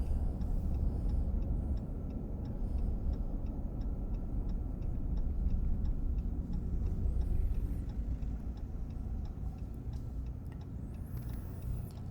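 A car makes a U-turn near a toll plaza on the way to Magic Kingdom, heard from inside as a steady, loud engine and road rumble with faint ticking, such as a turn signal, running throughout.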